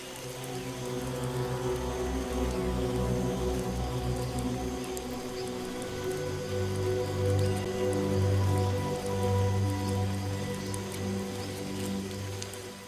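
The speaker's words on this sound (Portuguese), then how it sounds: "a chuva forte que chega ao chão da floresta ameaça este sistema logístico eficiente e sofisticado." Heavy rain falling onto a tropical forest floor, a steady dense patter of drops with a low rumbling undertone that swells slightly toward the middle, continuous and close with no voices.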